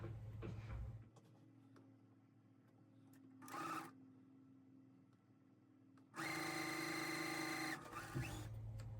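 A sewing machine stitches the pieces of a quilt basket block, a steady loud mechanical whir in two bursts, one short and one long run, with quieter motor hum between them.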